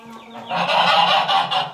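Farm chickens cluck and squawk up close in a short, loud burst of raspy, overlapping calls.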